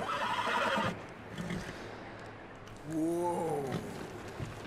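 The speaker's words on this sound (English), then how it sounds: "Let's go ahead and calm the horse." Horse in Red Dead Redemption 2 whinnying with a clear descending neigh midway, preceded by a brief snort-like burst and some light background game ambience; no talking.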